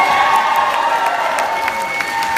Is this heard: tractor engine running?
no